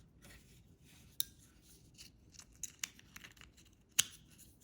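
A sticker peeled off a Ford Taurus key fob battery, with faint close crinkling and rubbing and a few small sharp clicks, quiet and without talk.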